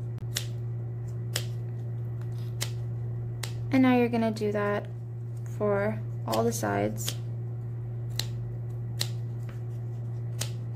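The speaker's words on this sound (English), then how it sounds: "I'm also using bigger scissors because it's much easier than using smaller scissors" Sharp, regular snips of large scissors through a stiff cardboard egg carton, roughly one per second over a steady hum, with someone speaking briefly midway.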